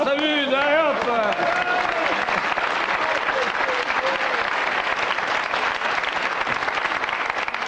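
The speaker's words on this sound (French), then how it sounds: "On applaudit, là" Studio audience on a French television game show breaks into sustained, loud applause after a brief voice at the start, a dense even roar of many hands continuing to the end.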